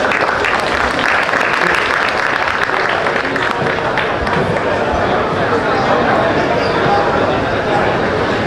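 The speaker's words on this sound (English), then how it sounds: "Let's give everyone a round of applause." An audience gives a loud, dense round of applause that holds steady throughout with no break, the many claps blending into a continuous close roar.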